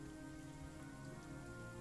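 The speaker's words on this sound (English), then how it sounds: "Yeah, it's raining." Rain patters steadily and softly on a surface, a faint continuous hiss with no voices present.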